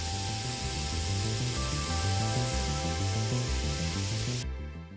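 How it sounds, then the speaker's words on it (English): Chocolate brown base coat sprayed onto a Hasbro Nerf Star Wars Mandalorian Amban Phase Pulse Rifle: a steady, loud, close aerosol hiss lasting several seconds, cutting off abruptly at the end. "And now I'm just going to paint the entire area with the chocolate brown here."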